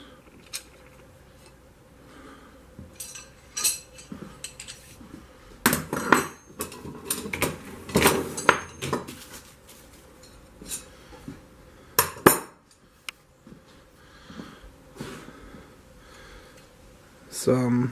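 Metal blanks for V-bit blacksmith tongs clink and clatter as they are handled, with bursts of sharp metallic knocks and scrapes, close by, scattered between quieter moments while a person talks.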